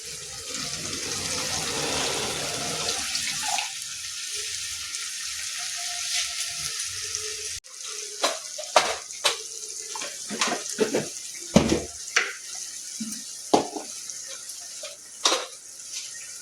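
Water pours into a blender jar for palak paneer, a steady close gushing stream for several seconds, followed by scattered splashes, knocks and clinks.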